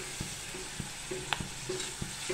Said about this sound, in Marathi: फक्त मीठ घालून ही शेंग परतायची आपल्याला।